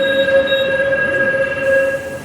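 An LRT Jakarta light-rail train at Pegangsaan 2 station, its steel wheels squealing in steady, sustained tones over a continuous rumble of rolling stock, loud and close throughout.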